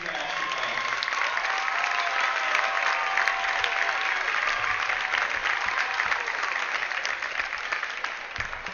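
Audience in a high school gym applauding the Hillsboro youth basketball players, sustained dense clapping from a large crowd with a few faint voices underneath.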